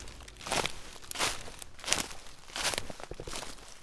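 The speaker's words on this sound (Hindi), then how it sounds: "अब पीछे से नंगे पैरों की आवाज आने लगी" Barefoot footsteps approach in a horror story, heard as about five soft, scuffing, crinkly steps spaced roughly evenly, each a brief broadband burst, fairly close with no voices.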